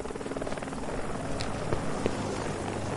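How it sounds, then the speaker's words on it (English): Helicopters full of soldiers drone steadily in a Resident Evil 6 style video game scene, a continuous loud rotor whir with faint voices underneath. "Look at all those helicopters full of soldiers, too."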